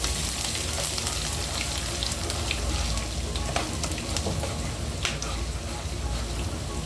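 Ginger and peanuts sizzle in hot oil for upma, a loud, continuous frying hiss with scattered crisp crackles and pops, close to the pan throughout.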